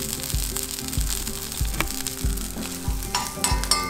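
Asparagus spears sizzle and fry in a hot pan, a steady crackling hiss broken by repeated low thumps and scrapes as they are rolled and tossed every half second or so, close and fairly loud with no talking.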